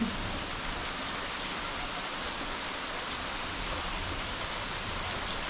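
Steady, dense rain falls during the first monsoon rain of the season at a home, a continuous hiss of drops with no pauses, close and even throughout.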